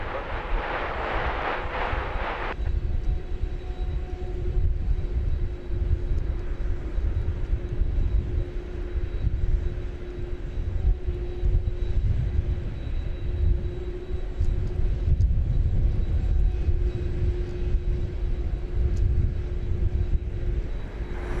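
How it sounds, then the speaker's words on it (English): A Boeing 777 taxiing across DFW Airport from the terminal area toward the hangar, heard as a steady, loud low jet-engine rumble with a constant whine, continuous with no talk, after a brief burst of louder noise at the start. "There you see a 777 crossing over from the terminal area to the hangar"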